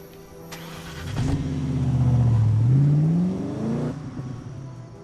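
A car in the 007 Blood Stone video game starts up and pulls away, the engine rising in pitch through a smooth acceleration, then easing off and fading, loud and close with no talking.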